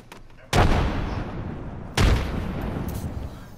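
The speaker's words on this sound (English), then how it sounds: "Grenade out!" Two loud, booming grenade explosions in the Apex Legends battle royale game, each a sharp blast with a long rumbling tail, about a second and a half apart, with no talk over them.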